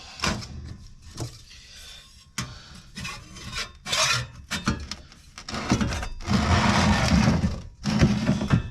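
A file rasps a burr off a metal part for a 1951 Shoebox fan shroud build, sounding as close, harsh scraping strokes in short bursts that lengthen into sustained rubbing toward the end.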